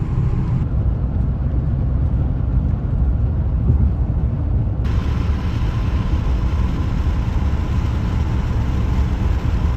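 A steady, loud low rumble of a car being driven fills the cabin from inside, a constant road and engine drone that holds with no talk across the whole stretch.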